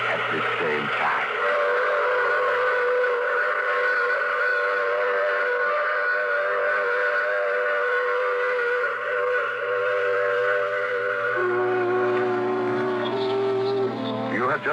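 A train whistle in an old-time radio drama, one long sustained tonal blast that shifts pitch near the end, loud and present over rumbling train noise.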